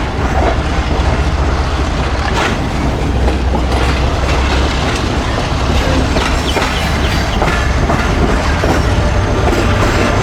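Pakistan Express passenger train running right alongside a moving bus on the Karachi to Lahore route, a loud continuous rumble with rhythmic clickety-clack of wheels over rail joints, close and sustained throughout.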